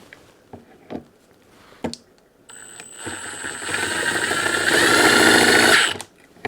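A cordless drill whirs up and drives a screw into a plastic Flex storage bracket, rising in pitch for about three seconds before stopping, preceded by a few light clicks and taps of handling.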